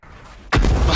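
Artillery fires in World of Tanks, a single heavy boom that cuts in abruptly after a quiet lead-in and holds loud and rumbling to the end.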